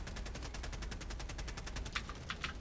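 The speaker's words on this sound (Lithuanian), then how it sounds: "Jie, blėt, iš kulkosvaidžių šaudo." Rapid, loud, evenly spaced machine gun fire in the video game Helldivers 2 hammers on without pause, with a few sharper bursts near the end.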